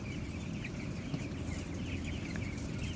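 Broiler baby chicks in a coop fill the air with dense overlapping peeping and clucking, a continuous busy chorus heard close with no talking.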